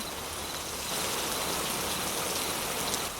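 Steady, dense late-night rainfall in an animated cartoon hisses continuously on surfaces, growing slightly heavier after the first second, with no voices.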